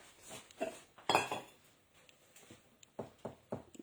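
A spoon stirs semolina pudding with dates in a metal pot, producing irregular clinks and scrapes against the pot, moderately close and fairly quiet, with no speech over it.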